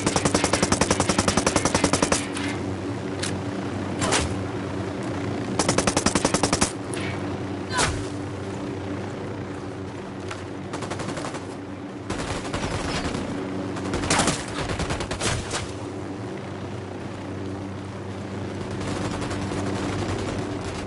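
Gunfire from the video game Ghost Recon Wildlands: loud, dense automatic bursts and scattered single shots fill the whole stretch, with sharp cracks standing out over steady background noise.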